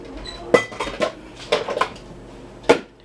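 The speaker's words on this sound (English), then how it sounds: "So I'm going to put up the dishes." Dishes and cutlery clatter and clink sharply in a home kitchen as they are put away, several distinct bursts close by with short pauses between, no talking.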